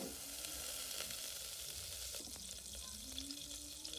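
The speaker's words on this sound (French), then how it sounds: "Vous commencez tout de suite par faire fondre votre beurre dans une casserole bien chaude." Butter melting in a very hot saucepan gives a steady, close frying sizzle with a constant hiss and a few faint crackles.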